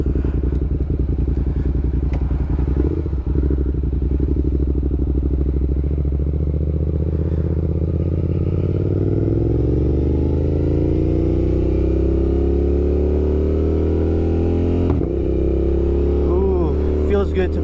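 A motorcycle engine hums loud and close while riding, its pitch rising and falling as the bike slows, stops and pulls away again, with a brief knock along the way.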